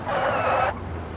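A car engine roars steadily at full throttle in a driving video game, pedal to the floor, loud and close for most of a second before cutting off abruptly.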